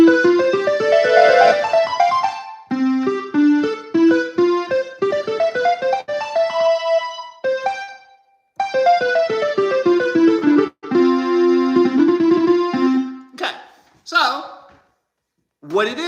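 Piano played through the circle of fifths, a sequence of chords and arpeggiated note runs moving step by step with short pauses, close and clear, with brief bits of talk near the end.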